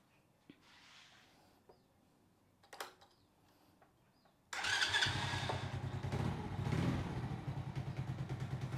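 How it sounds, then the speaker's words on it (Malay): An Aveta Ranger 110 motorcycle engine cranks and catches, then idles with a steady, close, fairly loud chugging putter after a few faint clicks. "Dan kita start enjin motosikal dan kita tengok lampu ni."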